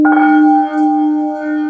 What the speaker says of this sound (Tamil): இப்போ நம்ம வந்து ஸ்படிகத்தில் இருக்கிற சிங்கிங் பவுல் பார்த்தோம் இல்லைங்களா